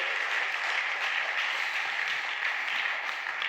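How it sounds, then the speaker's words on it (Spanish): A church audience gives a strong round of applause for the King at a sermon, a dense, even wash of many clapping hands that holds steady throughout at moderate volume. "Dale un fuerte aplauso al Rey."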